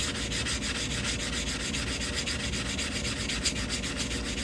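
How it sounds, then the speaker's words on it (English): Rapid, even back-and-forth sanding strokes smooth the cut edge of a metal coin ring, close and steady with a continuous gritty rasp. "I'm just going to sand this cut edge, make it nice and smooth real quick"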